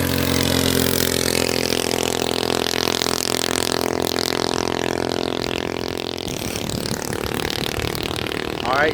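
A go-kart engine runs loudly nearby with a steady buzzing drone that shifts in pitch partway through as the kart takes off on a top speed ride, with no clear talking.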